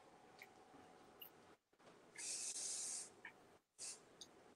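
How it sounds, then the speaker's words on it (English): Heat protection and shine finishing spray misted onto styled hair, several short hissing bursts from an aerosol can, the longest about a second, separated by pauses with faint room noise. "Spray it in the direction that you want the hair to flow."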